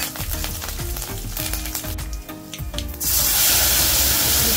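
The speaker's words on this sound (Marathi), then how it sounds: "कोथिंबीर मी फोडणीतच घालते." Coriander dropped into hot tempering oil for tomato saar: an uneven crackling sizzle over faint background music gives way to a sudden loud, sustained hiss as the leaves hit the oil, close by.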